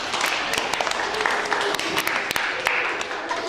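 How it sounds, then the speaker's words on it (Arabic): Schoolgirls at a school gathering clapping together in a dense burst of applause, sharp hand claps popping out of the steady patter, with voices talking over it. "صفقوا اليوم يا بنات"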